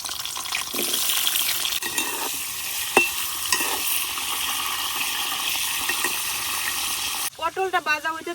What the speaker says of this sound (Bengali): পটলটা ভাজা হইতে থাকুক